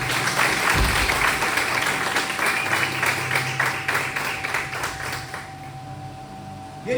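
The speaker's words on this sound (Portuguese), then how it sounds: "Dê um forte aplauso a esse Deus." A church congregation applauds together in a dense, steady wash of clapping that fills most of the moment, then thins and fades toward the end as a low hum lingers.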